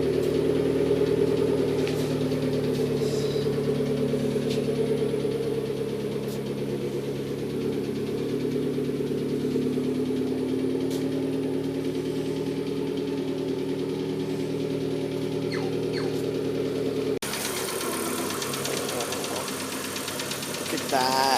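A 1997 Hyundai Coupe SFX engine runs steadily on its first drive, a low droning hum with a faint knocking texture, close and continuous, then shifting tone near the end as the drive changes.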